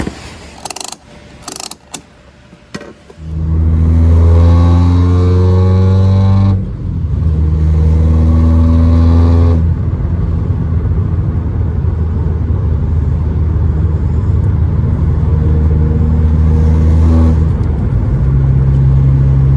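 A car cruising along a road home, its engine a steady loud drone with a brief dip partway through, heard alone after a few seconds of scattered clicks and handling noise.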